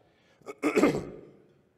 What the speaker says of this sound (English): Pardon my congestion and cough.